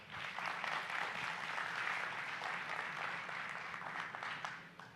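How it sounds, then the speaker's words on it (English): A room full of people applauding the judges at a startup pitch competition in Bangkok, steady full clapping throughout that eases slightly toward the end. "Please give them a round of applause."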